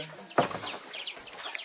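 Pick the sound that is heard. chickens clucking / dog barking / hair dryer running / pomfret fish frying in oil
chickens clucking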